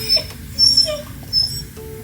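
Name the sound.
puppy whimpering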